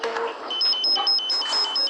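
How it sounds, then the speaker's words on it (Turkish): A synthetic elevator alarm in a Roblox elevator game beeps in a rapid repeating pattern of short high tones, loud and electronic, over a faint background murmur. "Alarm verdik."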